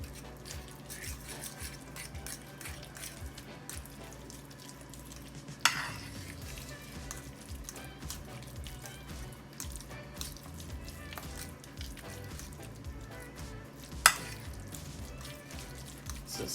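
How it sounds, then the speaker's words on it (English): Casserole ingredients are mixed in a hot skillet, with continuous wet stirring and scraping close by under a low sizzle, plus two sharp utensil knocks against the pan. "so try to mix this in best you can."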